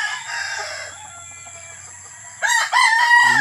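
A small mestizo labuyo rooster crows nearby, one loud, strained crow that starts partway through and runs to the end, after a quieter stretch of faint background noise.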